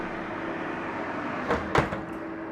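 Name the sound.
putting tuna casserole into the oven, oven door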